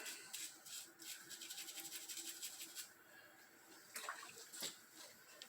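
Water runs and splashes over freshly cleaned bicycle parts during a gentle rinse, a steady broadband wash with brief spurts near the end, heard alone at close range.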